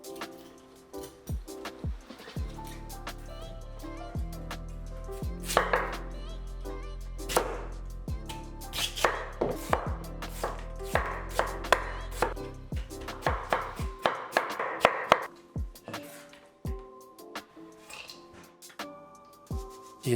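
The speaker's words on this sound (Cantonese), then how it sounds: "將蘿蔔去皮切幼絲" A knife shreds peeled radish into thin strips on a cutting board, giving rapid, steady, close chopping taps that run for most of the stretch and thin into scattered knocks near the end.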